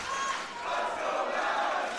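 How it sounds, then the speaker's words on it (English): A Jesuit high school crowd cheers at a prep wrestling match against Holy Cross, a loud, sustained roar of many voices filling the gym throughout. "Jesuit crowd is cheering Max Belsom's name."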